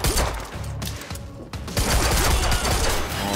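Dense bursts of gunfire from the video game Quantum Break, rapid shots layered with loud action effects and a low rumbling background, continuous and close throughout.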